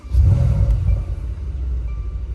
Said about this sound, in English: you have to push a paddle in and press the button at the same time, and it'll kind of rev up like crazy